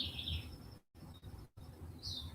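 Birds chirp and sing indoors on a morning, heard through a house: faint, high, repeated calls come in short bursts over low room rumble, with brief silent gaps between.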